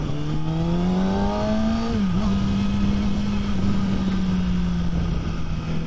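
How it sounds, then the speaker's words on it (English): Steady road and wind noise fills the cabin of a moving car, with a constant rumbling roar and a droning engine tone that shifts slightly in pitch. No one speaks. "So hopefully the road noise and the wind noise isn't too overwhelming for the mic."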